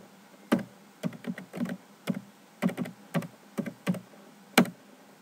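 A password typed on a computer keyboard while setting up a Windows 8 login, heard as short bursts of clicking keystrokes with brief pauses between groups, close and fairly quiet, with no talking.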